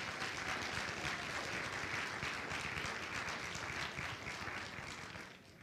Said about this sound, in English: So give all of yourselves a round of applause for being here today.